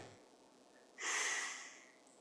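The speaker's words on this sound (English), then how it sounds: "Take a deep breath in." A single deep breath drawn in through the nose, close and fairly loud after a quiet pause, swelling then tapering off, with no talk.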